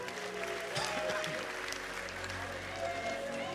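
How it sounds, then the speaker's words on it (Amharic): A church congregation claps continuously through a service. The dense, even clapping runs under voices throughout. "ኢየሱስ ጌታ አጨብጭቡ ለጌታ ክብር"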